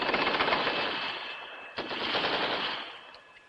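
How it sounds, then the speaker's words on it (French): A rapid burst of gunfire, like a machine gun, rattles loudly and continuously, pauses briefly, then resumes before tapering off. "Il va bien entendre les coups de feu"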